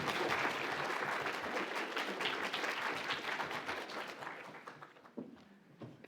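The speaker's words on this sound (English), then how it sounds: "We'll give us a clap while she's doing it." Conference audience applause, a full room clapping loudly and steadily before slowly thinning out toward the end, with a few scattered claps and footsteps.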